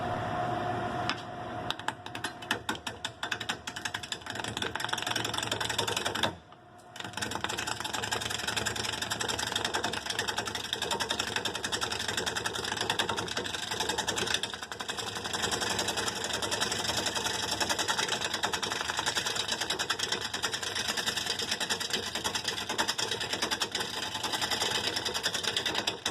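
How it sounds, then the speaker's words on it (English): Worm-eaten mesquite bowl blank spinning on a wood lathe as a turning tool chips away dry, dusty wood, giving a steady, loud whirring drone with a brief drop near the start. "You'll see when I start turning it, you'll see a lot of dust."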